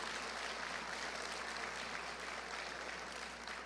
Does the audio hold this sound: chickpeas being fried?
no